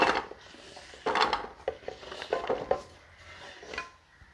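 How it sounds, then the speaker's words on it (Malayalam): Chopped raw papaya pieces clatter and knock into a metal pressure cooker, several uneven clunks and scrapes from a spoon and pot, close up with no voices. "കപ്പളങ്ങ എല്ലാം നമ്മൾ അരിഞ്ഞു വെച്ചു ഇനി ഒരു കുക്കറിലേക്ക് ഇടാം ഇതാ"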